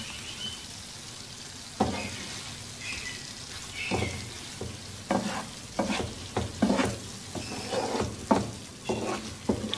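Chicken tikka pieces cooking on the stove in a pan, first a soft steady sizzle, then loud irregular clanks and scrapes as the pieces are turned over.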